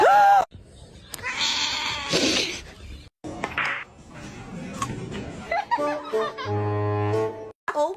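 A cat stuck in a floor meows and caterwauls in short, loud wails, mixed with people's speech and laughter nearby.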